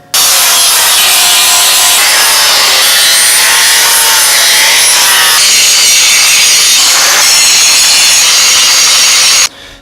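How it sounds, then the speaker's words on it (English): A grinder shapes and smooths the edges of a steel 14-bolt axle housing. It gives a loud, harsh, continuous abrasive grinding at close range that shifts slightly in pitch for about ten seconds and then cuts off. "we can take the grinder now and start straightening this thing out and kind of forming these edges"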